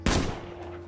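A single sharp gunshot in the shooter game Arena Breakout, a close loud crack with a short rumbling tail.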